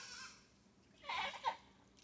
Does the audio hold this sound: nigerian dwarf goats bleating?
yes